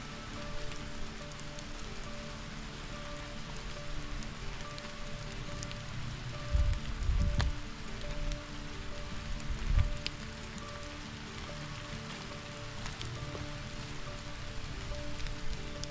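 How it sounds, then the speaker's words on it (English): Steady heavy rain pours at a lake state park, a constant hiss of drops on surfaces with a few low thumps midway and no voices. "it's still pouring rain"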